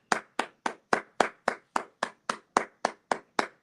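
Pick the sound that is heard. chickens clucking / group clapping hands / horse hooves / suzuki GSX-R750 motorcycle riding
group clapping hands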